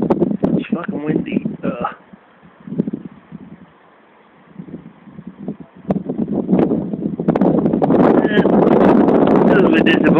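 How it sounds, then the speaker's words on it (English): Wind buffets the microphone in gusts with bursts of a person talking, the rumble building louder and steadier toward the end. "It's fucking windy."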